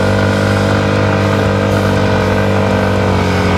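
A Yamaha WR155R motorcycle engine climbs a steep uphill in second gear, a steady loud droning hum with strong harmonic tones holding at high revs throughout, close and continuous with no talk.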